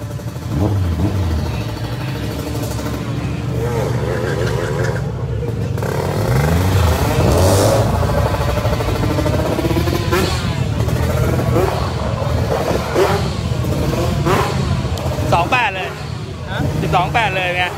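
Race car engine revving hard toward 8,000 rpm at a track day, a loud sustained mid-range engine roar rising and holding throughout, with people talking over it.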